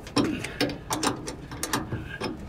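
A hand ratchet tightens a new fuel filter on an Onan QG 5500 RV generator, giving a series of sharp, close clicking strokes in an uneven rhythm, loud and alone without talk.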